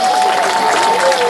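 Applause and crowd noise fill a hall for the pope's speech, a dense, loud wash of clapping that continues without pause.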